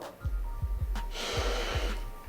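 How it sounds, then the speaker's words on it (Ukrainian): Breathing during a kyphosis posture exercise, with a series of short sharp nasal sniffs followed by a longer hissing exhale through the mouth, close and fairly loud. "Вдих ми виконуємо через ніс, а видих через рот."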